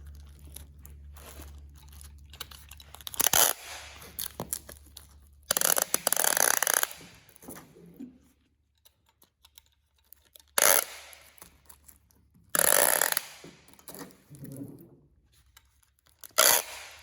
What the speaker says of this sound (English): Needs a little bit of help to stretch out that carbon fiber.